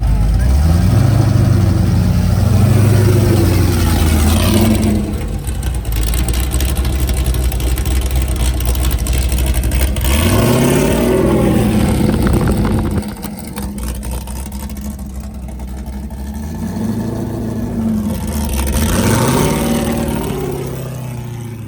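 A car engine revs hard several times while running up a hill, the pitch climbing and falling in repeated surges, loud and close, with people talking over parts of it. The car is having fuel issues.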